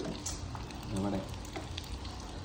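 Neyyappam batter fries in hot oil, a steady close sizzle and crackle that swells slightly midway, with faint voices talking in the background.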